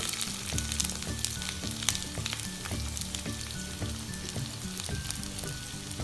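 Garlic, ginger and onion fry steadily in hot oil for a restaurant-style mixed vegetable dish, a close, continuous sizzle with a few soft clicks of stirring and no voices.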